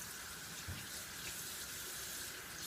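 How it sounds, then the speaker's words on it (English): Tap water runs steadily to rinse a knife freshly sharpened on a 1000 grit whetstone, a close, continuous broadband hiss and splash with no talking. "and then I rinse it"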